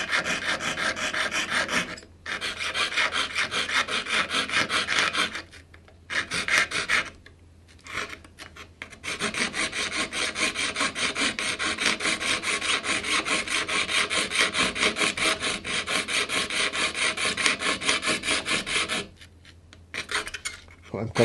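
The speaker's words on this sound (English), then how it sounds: "I'm cutting wood." A hand saw cuts wood with rough, rasping strokes in long steady runs, pausing briefly several times, loud and close with no talking.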